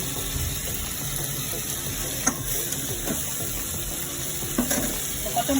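Curd chicken fries in a pan with a steady, close sizzle and bubbling crackle throughout, a few brief louder pops of stirring breaking through, no one speaking.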